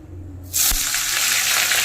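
Mustard oil in a kadai is quiet for half a second, then potato and cauliflower hit it and it bursts into a loud, dense, steady sizzle close by.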